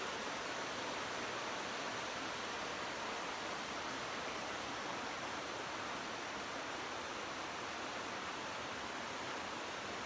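Dense, steady rushing water fills the scene, an unbroken hiss of crystal-clear spring water flowing from a deep natural spring in the Ozarks of southern Missouri, with no pauses or voices.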